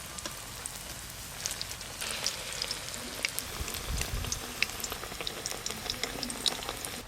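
Vegetable fritters deep-fry in hot oil, a dense crackling bubbling hiss with scattered sharp pops, fairly soft and steady throughout.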